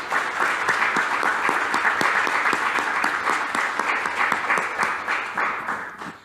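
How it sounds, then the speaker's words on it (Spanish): A church congregation claps loudly in praise during a Spanish-language service, many hands producing a full, continuous applause with audible individual claps, fading slightly at the end. "agradecemos a Dios con un fuerte aplauso"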